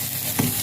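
Fried garlic (kabsha) hits a pot of molokhia soup with a short, close sizzle, a brief hissing burst rising over a steady background simmer.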